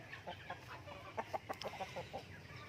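Free-range native rooster on a small farm giving a series of short clucks at an irregular, fairly quick rhythm, close but soft, with light background noise.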